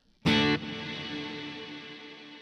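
One distorted electric guitar chord through a Kemper reverb strikes hard, then a bright, thin reverb tail with the lows cut rings on steadily for about two seconds, with nobody speaking.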